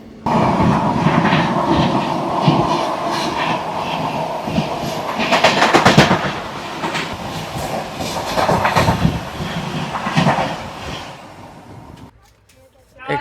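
Netaji Express passenger train rolling along the rails, a continuous loud rumble with rhythmic clickety-clack of wheels and brief squeals, heard from inside the coach with chatter in the background, fading out near the end.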